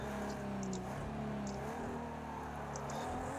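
A racing car engine in the video game Project Cars 2 revs loudly and steadily, its droning tone rising and falling slightly with no voices over it.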